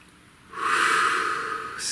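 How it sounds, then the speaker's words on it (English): A single long, deep inhaled breath drawn in close and clear, rising after a brief quiet start and holding steady, with no talking over it. "Please take a nice deep breath"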